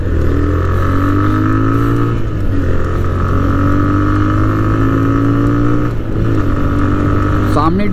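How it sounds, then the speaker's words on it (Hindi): A TVS Raider 125 motorcycle pulls away in first gear in power mode, its engine note steady and loud with a rising whine, joined by constant wind rush and a shift in pitch near the end. "तो फर्स्ट गियर लगा दिए हैं और इसको हम लोग पावर मोड में लेते हैं"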